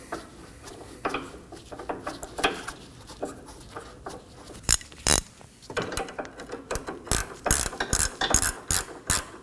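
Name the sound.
ratchet removing nut from Toyota Corolla sway bar link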